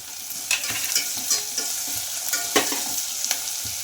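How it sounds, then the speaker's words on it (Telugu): Onions and small-cut tomato pieces frying in a pan, a steady close sizzle broken by repeated scraping strokes of a spoon stirring through them, with no voices. "ఆనియన్స్ కొంచెం బాగా ఫ్రై అయిన తర్వాత అయితే ఇలా చిన్నగా కట్ చేసి పెట్టుకున్న టమాటా ముక్కలు కూడా వేసుకోవాలండి"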